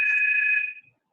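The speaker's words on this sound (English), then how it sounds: "Someone's phone is ringing." A mobile phone rings among an audience during a church sermon, a single steady electronic tone held for most of a second before fading out.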